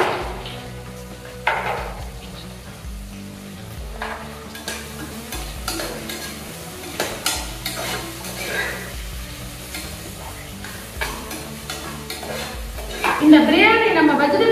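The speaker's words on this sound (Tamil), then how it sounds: "கட் பண்ணி வச்சிருக்க வெங்காயத்தை போடணும்." Sliced onions and long-cut green chilies fry in a pan for vegetable biryani, a constant close sizzle with frequent clanks and scrapes of a spoon against the metal, getting busier near the end.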